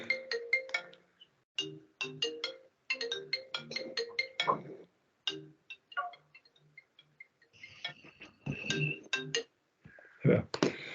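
A phone ringtone goes off during a virtual court hearing, a quiet repeating melodic chime pattern in bursts, with faint talk mixed in toward the end.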